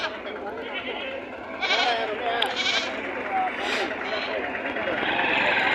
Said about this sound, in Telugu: ఇవన్నీ మేకల గొర్రెలే.